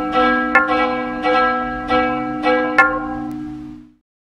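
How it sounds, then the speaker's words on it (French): Village church bells rung hard and fast to drive away threatening storm clouds: about six loud, resonant strikes about half a second apart, each ringing on with long overtones, then fading out, with no voices. "on se rue dans l'église pour faire sonner les cloches à tout rompre pour éloigner les nuages chargés de"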